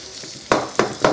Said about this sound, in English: Close your ears because I need to fry this rice.